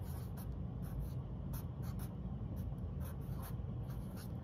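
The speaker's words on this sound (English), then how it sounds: "I'm going to write," A marker writes on a paper mask, giving a close, steady scratchy rubbing with short squeaky strokes in an uneven rhythm over a faint background hiss, with no talking.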